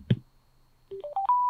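A Sena 60S motorcycle headset powering on: a short click, then a rising chime of four tones climbing step by step, ending on a held bright tone. No speech.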